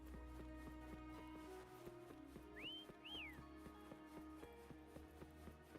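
Two short rising-and-falling whistles in Wuthering Waves ring out over steady game music with a tinkling rhythmic backing and soft clip-clop steps.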